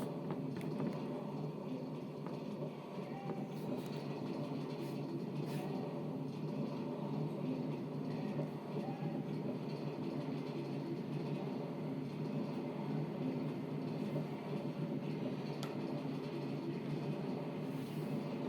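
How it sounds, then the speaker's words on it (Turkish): A steady, monotonous rumble of a Minecraft minecart train rolling slowly along continues throughout, even and unbroken, with no voices. "bu tren de çok yavaş gidiyor"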